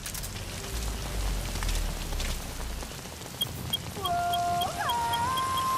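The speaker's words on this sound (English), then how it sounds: "the rain and mist does make visibility a little low" Steady rain hiss fills the scene in the Metal Gear Solid V game, with a low rumbling bed beneath it early on and a few tonal game sounds entering near the end.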